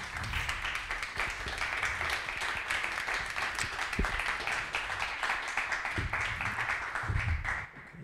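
Audience applause at a French ecological transition event, a steady dense clapping from a crowd that runs nearly eight seconds before dropping off at the end.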